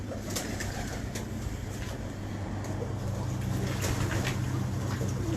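Pigeons kept by a pigeon breeder cooing in a steady low murmur, soft repeated coos over a constant background hum, moderately close with no talk.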